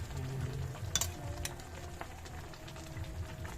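Small tuna fish hit a hot pan of oil and sizzle steadily at close range, with a few sharp clinks of utensils and crackling spatter over the frying.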